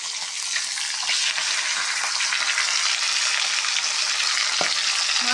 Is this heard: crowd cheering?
no